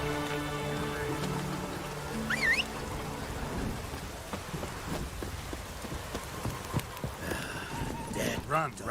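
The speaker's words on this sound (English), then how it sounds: "Hope it keeps to a drizzle." Rain falls steadily in The Witcher 3 as a soft, continuous patter on surfaces, with horse hooves clopping and scattered game voices over it.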